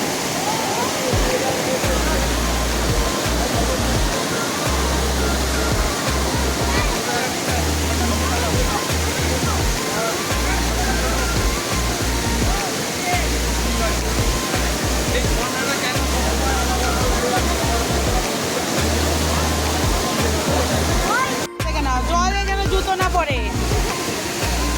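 The Kanchanjangha waterfall roars as a loud, continuous rush of falling water close by. People talk over the steady noise throughout.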